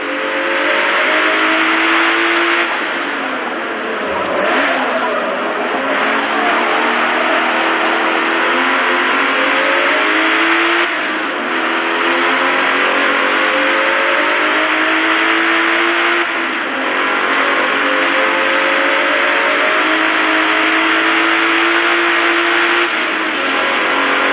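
Race car engine in the Forza Motorsport video game revving and climbing through gears in steady repeated sweeps, loud and continuous throughout with no talking.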